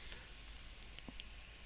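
A few sparse, faint clicks of computer keyboard typing, irregular and quiet over a low steady background hum.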